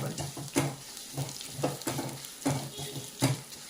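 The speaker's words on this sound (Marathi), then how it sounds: "शेवया तशाही रोस्टेड आहेत, त्या तेवढे भाजण्याची गरज नाही, थोडंसं भाजलं तरी चालते" Vermicelli roasts in a pan for alivachi kheer, a soft dry sizzle broken by regular scraping strokes of a spoon against the pan, fairly quiet and close.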